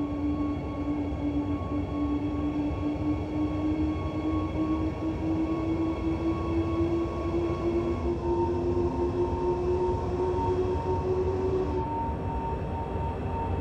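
A BR 187 or BR 146 locomotive runs in Train Sim World 4 with a steady, close rumbling drone and sustained whining tones that slowly shift in pitch, with no voices.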